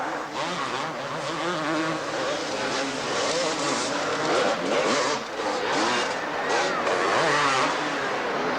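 Supercross motorcycles race on a dirt track inside the Cotton Bowl at the 1984 Dallas Supercross. Several engines snarl and rev continuously at a loud, steady level, with crowd noise and commentary talking over the racing.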